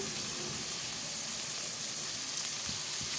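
Mustard and fenugreek seeds sizzle brightly in hot sesame oil, a continuous crackling hiss with a few small pops, close and even throughout.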